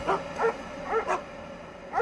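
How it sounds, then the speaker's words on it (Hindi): Several dogs bark and whine outside a cottage at night, a run of short, fairly close yips and whimpers that repeats about every half second and stands on its own without any voices. "तभी मुझे कॉटेज के बाहर कई सारे कुत्तों के भौंकने और रोने की आवाज सुनाई।"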